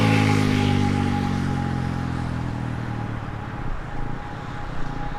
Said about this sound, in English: I do apologise for the noise of the motorbike